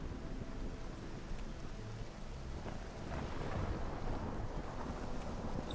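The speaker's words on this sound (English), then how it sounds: "It's definitely raining." Steady rain pours down with low thunder rumbling beneath it in the game Morrowind, a continuous wash of noise with no voices.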